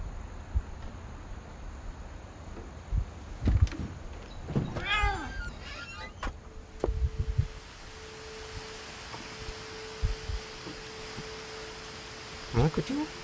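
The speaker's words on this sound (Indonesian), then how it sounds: "Ada kucing, suara kucing." A cat gives a couple of short meows, moderately close, amid rustling and scattered knocks, followed by a steady electronic tone and further small thuds.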